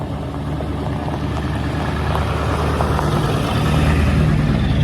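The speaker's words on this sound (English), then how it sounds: "Let me let this loud truck go by." A loud truck passing on a nearby road outdoors, a continuous low engine rumble that swells gradually louder over several seconds, with no talking.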